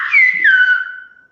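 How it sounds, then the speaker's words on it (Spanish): A single whistled word in Silbo Gomero, the whistled language of La Gomera, meaning "whale": one clear, close whistle with a gliding pitch that steps down midway and fades out over about a second, heard alone. "Te las silbo a las dos y verás que se parecen mucho."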